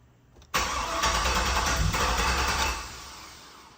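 A turbocharged 6-litre engine running a 3-bar speed-density setup cranks and fires abruptly, roaring loud and close for about two seconds before dying away, with no talking.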